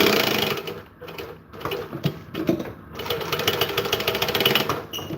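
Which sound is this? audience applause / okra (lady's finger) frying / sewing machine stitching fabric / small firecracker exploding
sewing machine stitching fabric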